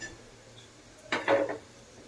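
A metal iron griddle (tavdi) for bhakhri is set down on a gas stove, giving a short clatter of metal on metal at the midpoint, close and moderately loud, in an otherwise quiet kitchen.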